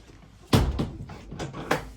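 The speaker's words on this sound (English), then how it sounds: "Shut the door." A door thuds shut at a stable yard on a cold day, followed by a few more knocks and rattles of the door settling, close and fairly loud, with no voices.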